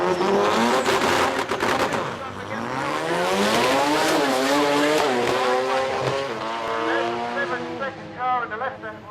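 A rotary-engined Japanese drag race car launches down the strip at a drag series event, a loud, high-revving wail that climbs through the gears with shifts, under an announcer's commentary.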